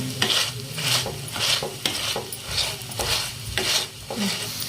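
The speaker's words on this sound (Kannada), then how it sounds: "ಇದನ್ನ ಈ ರೀತಿಯಾಗಿ ಪೂರ್ತಿ ಮ್ಯಾಶ್ ಮಾಡ್ಕೊಳ್ಳೋಣ" Egg mashed with a spatula in a hot pan for egg tawa pulao, rhythmic scraping strokes about once a second over a light sizzle, close and clear with no talking.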